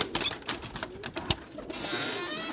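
Pigeons cooing softly in a backyard loft, a few low throaty coos mixed with light rustling and scratching, close by and fairly quiet.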